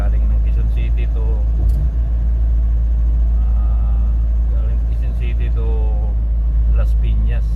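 A vehicle drives along the Skyway expressway with a loud, constant low road rumble and engine noise while someone talks over it.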